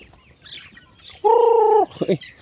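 Chickens on a farm cluck and squawk nearby, one sustained warbling call standing out among short bursts of clucking.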